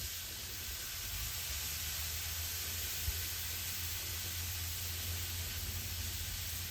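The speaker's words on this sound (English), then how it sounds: "You can hear it start to cook on the blacktop or Blackstone." Steady, even sizzle of Chex Mix being drizzled onto a hot Blackstone griddle, a continuous close hiss with no talk.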